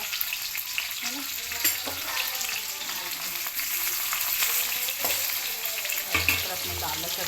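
Onion and garlic frying in hot oil for a red amaranth greens dish, giving a steady close sizzle with crackles and scattered stirring knocks, with no talking.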